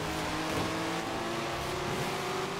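A Shelby GT350R V8 in Forza Horizon 4 drones steadily with a strong tonal engine note and slight shifts in pitch, loud and continuous throughout with no talking.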